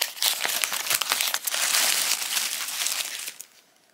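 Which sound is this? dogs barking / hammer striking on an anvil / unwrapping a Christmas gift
unwrapping a Christmas gift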